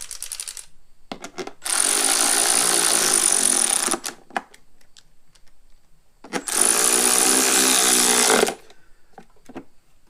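Two long bursts from a power tool driving the bottom bolts into a 2008 Subaru Impreza 2.5 engine during a timing belt and head gasket job, loud and steady whirring with short clicks and pauses between runs.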